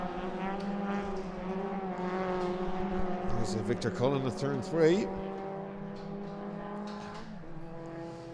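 Ford Fiesta ST race cars lap a circuit during an ICCR 2022 race round, their engines droning steadily under continuous race commentary, with a louder pass swelling around the middle.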